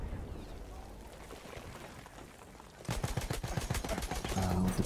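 Gunfire in the video game Battlefield 1. Low rumbling battle noise gives way after about three seconds to dense, loud rapid firing that keeps rolling to the end, with no talk over it.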